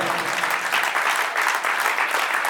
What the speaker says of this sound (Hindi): बहुत अच्छे से तालियां, दोनों हाथ ऊपर करके तालियां बजाइएगा।